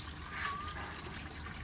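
Water flushes through a siphon from one gutter into the next in a cascading flood-and-drain gutter bed, a faint, continuous trickle and gurgle with no talk.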